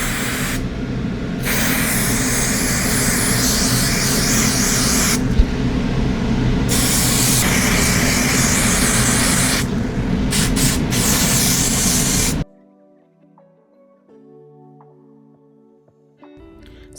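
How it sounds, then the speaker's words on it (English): A long, loud continuous hiss of an aerosol hair spray with a few short breaks, then it stops and quieter background sounds remain. "So I also go in with any type of like spray."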